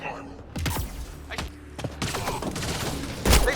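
Bursts of gunfire in the video game Mass Effect: Andromeda crack sharply in a fast, close sequence, mixed with thuds and mechanical clatter under a voice.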